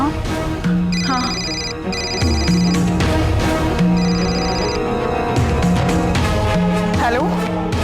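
A phone rings with a looping musical ringtone, loud and steady, its short melody repeating several times.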